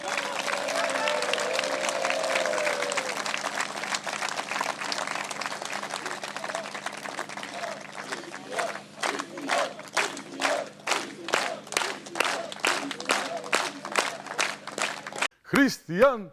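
Studio audience applause at a Macedonian evening talk show: a dense, loud wash of clapping and crowd noise that later breaks into rhythmic bursts of claps.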